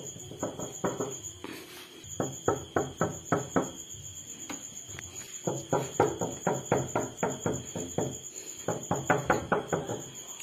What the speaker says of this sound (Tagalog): So, kanina pa ako kumakatok.